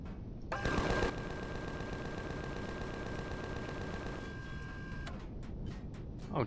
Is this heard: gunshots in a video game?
yes